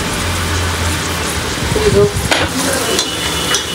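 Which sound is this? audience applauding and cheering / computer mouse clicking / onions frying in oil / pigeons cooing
onions frying in oil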